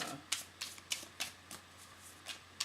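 Tarot cards shuffled in a steady rhythm of soft, evenly spaced riffles, about eight in all, close and quiet over a low background hum.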